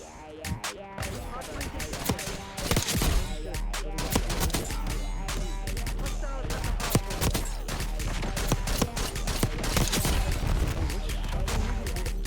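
ASG 89 shotgun firing in Call of Duty Black Ops 6, rapid loud blasts in dense bursts over a game soundtrack, with a voice talking over it.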